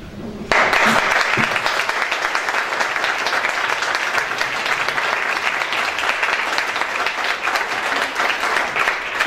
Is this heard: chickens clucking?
no